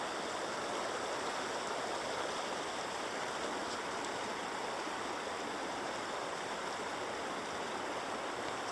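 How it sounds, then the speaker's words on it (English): Snowmelt water flows steadily through White Mud Creek, a constant broadband rushing like a small waterfall that stays even and close throughout with no voices. "Flows into the White Mud Creek, which is this one."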